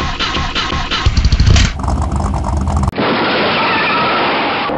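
A car engine cranks and starts in a stop-motion movie, with a choppy sputtering burst followed by a sharp cut into a steady, loud engine roar.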